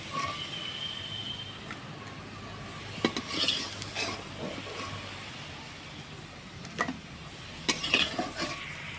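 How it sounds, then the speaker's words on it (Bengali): Fried potatoes are lifted out of a wok, with soft sizzling under repeated metal scrapes and clinks of a utensil against the pan, in short bursts spread across the clip. "এখন আলুগুলোকে তুলে নিচ্ছি।"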